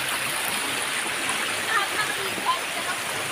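Deep flood water flowing past submerged houses, a steady broadband rushing wash with faint splashes, continuous and fairly loud, with people talking faintly in the background.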